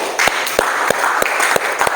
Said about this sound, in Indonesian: Kita beri tepuk tangan dulu sekali lagi